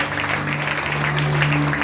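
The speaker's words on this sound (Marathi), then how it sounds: "जरा जोरदार टाळ्या प्रभूच्या जोरावर." A church congregation claps enthusiastically during a sermon, a dense, steady burst of applause filling the room for a couple of seconds.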